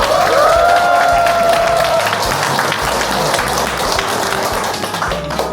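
An audience at a company anniversary celebration claps and cheers for the CEO. The crowd applause is fairly loud and steady, and a sustained musical tone is heard at the start.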